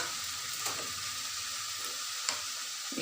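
Curry leaves and cooked cluster beans go into a hot pan for a dal and vegetable dish, giving a steady close sizzle with a couple of sharp crackles and faint stirring, no talking.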